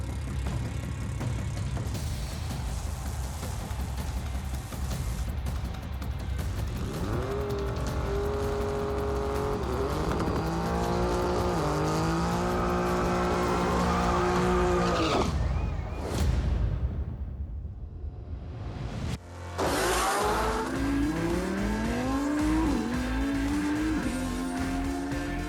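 A GTR race car runs hard at a Toronto racing event, its engine rising and falling through gear changes, then a loud rushing pass and sharp squealing tires and skidding, with the engine pulling again afterward.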